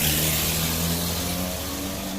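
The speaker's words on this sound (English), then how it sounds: "someone needs to change their exhaust." A car with a loud exhaust drives past at night, its engine note rising and then fading over a steady broadband roar, fairly close and loud, with no voices.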